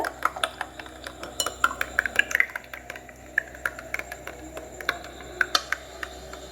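Beef cake batter tinted with a few drops of orange food colouring is beaten in a bowl, giving quick, irregular clinks and scrapes of a utensil against the bowl, light and close with no talking.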